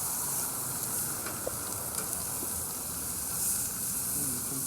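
Shrimp sizzle steadily on a barbecue grill just after being flipped, a continuous close frying hiss with faint crackles throughout.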